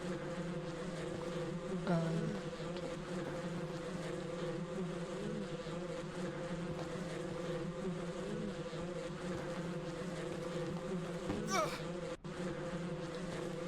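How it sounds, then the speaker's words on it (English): Continuous droning buzz of bees in the video game Ranch Simulator, steady and fairly faint, with a brief sharp sweep near the end. "How am I supposed to calm down the bees?"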